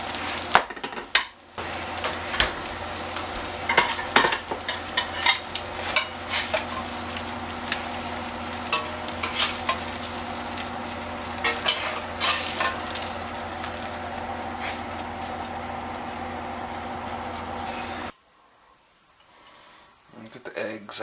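Eggs frying over easy in a pan, a steady crackling sizzle with scattered pops and occasional scraping that drops away abruptly near the end, while a person talks over it.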